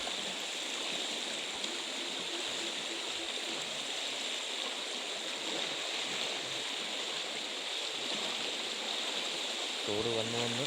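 A large village stream runs steadily, a broad, even rush of water that holds at the same level throughout and sounds fairly close, with a faint low murmur near the end.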